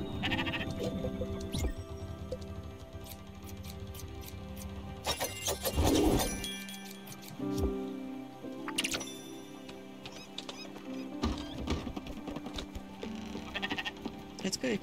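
Sheep bleat repeatedly in the video game Spiritfarer while a farm scene plays, with layered game music and ambience and some talk underneath.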